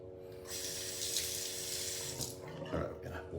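A faucet runs steadily into a bathroom sink for face washing, a close, continuous broadband splash that briefly swells and thins toward the end, with no talking.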